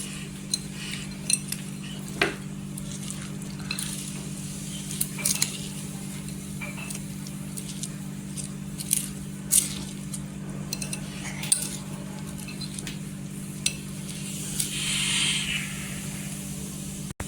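Cabbage chutney with a spice tempering stirred in a pan, a spoon scraping and clinking against the metal in scattered taps over a steady low hum and faint sizzle.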